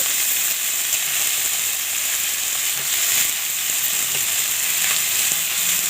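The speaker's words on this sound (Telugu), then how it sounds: "ఇప్పుడు పోపు బాగా వేగిపోయింది ఇప్పుడు కడిగి వంగ ముక్కల్ని ఇందులో యాడ్ చేసుకున్నాము" Brinjal pieces sizzle and hiss steadily in hot tempering oil, a close, dense crackle with occasional soft ticks of stirring.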